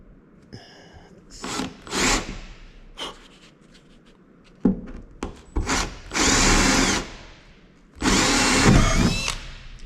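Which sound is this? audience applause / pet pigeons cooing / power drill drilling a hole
power drill drilling a hole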